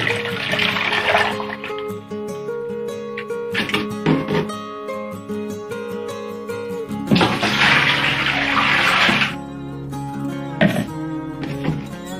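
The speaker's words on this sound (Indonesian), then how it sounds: "kita masukkan dulu air gulanya banyak 2 gayung" Sugar water for Indonesian es buah poured with a dipper, two scoops, a loud close splashing gush with two strong surges and brief breaks between them, no speech.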